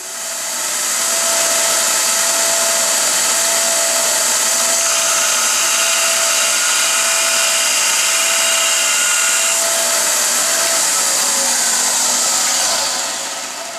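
Bench grinder with a flat-faced wheel grinding a steel lathe threading tool, a steady loud whine held continuously throughout with shifting tones as the tool is pressed, no talk.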